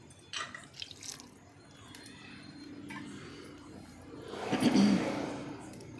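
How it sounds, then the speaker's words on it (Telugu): Water is poured into a pan of masala broad bean curry, a soft rushing splash swelling near the end, with a few faint clinks of utensils earlier. "వాటర్ వేస్తామండి."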